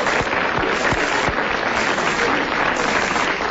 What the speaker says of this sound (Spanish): ¡Un aplauso a esta chica, ¿no?